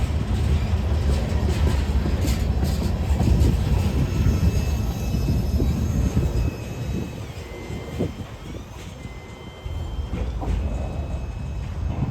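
A CSX freight train carrying lumber, light poles and covered hoppers rolls by nearby with a continuous heavy rumble, steady rail clatter and faint squeals, loud throughout.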